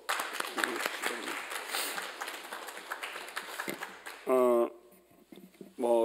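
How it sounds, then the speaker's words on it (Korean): Applause from a congregation during a Korean church Sunday service, a dense patter of clapping under a voice speaking over a microphone, followed by brief sustained tones near the end. "다시 한번 큰 박수로."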